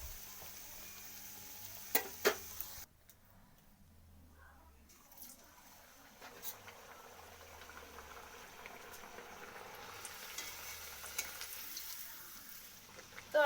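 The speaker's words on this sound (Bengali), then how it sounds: "তো দেখুন ছেড়ে দিয়েছি, তো আমি ভেজে নেব" Pea kachori fry in hot oil with a faint, even bubbling sizzle. Small clicks and soft background noise are scattered through it.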